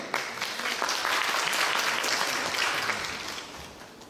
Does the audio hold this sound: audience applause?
yes